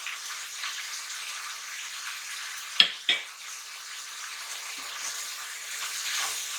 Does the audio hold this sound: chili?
yes